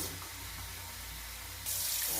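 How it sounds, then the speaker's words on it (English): Warm water runs steadily from a kitchen faucet into a cup, a constant close hiss that brightens slightly near the end as the flow changes. "let me get my cup and 1/4 of warm water"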